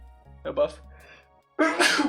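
A single short sneeze bursts out near the end, close and fairly loud, after a moment of quiet talk during an online game.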